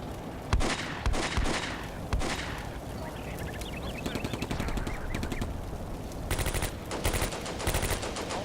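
Machine-gun fire in Combat Mission: Beyond Overlord, during fighting at Cambes, comes in rapid rattling bursts at the start and again near the end, with scattered shots between, at a moderate distance.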